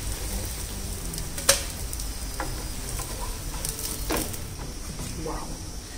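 Vegetable pancakes frying in a pan, a steady broadband sizzle throughout with occasional clicks and light utensil taps, close and moderately loud.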